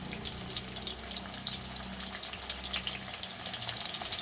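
Two large onions fry in a pan for chicken curry, giving off a steady, close, unbroken sizzle and hiss that never pauses and has no talking over it.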